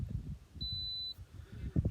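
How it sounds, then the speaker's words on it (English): A Lay-Z-Spa Helsinki hot tub control panel gives a single steady electronic beep when the padlock button is pressed, holding about half a second, clear and close, with low background rumble and handling noise around it. "you press the padlock and it'll beep."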